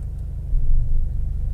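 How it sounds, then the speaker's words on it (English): A Mercedes Vito van engine turns over and settles into a steady, close, low idle rumble that swells briefly before evening out; no voices are heard. "Foot on the brake, start the vehicle, select a gear."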